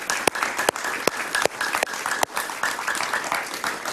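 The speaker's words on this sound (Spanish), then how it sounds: "un aplauso para ella, por favor." A studio audience breaks into sustained applause, dense clapping with a few sharp louder claps standing out, continuous from start to end.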